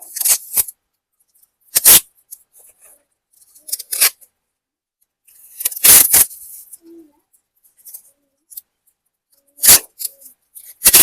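A plastic cover is wrapped around a Red Lady papaya seedling's soil pot, giving loud, close crinkling rustles in separate bursts with quiet gaps between them.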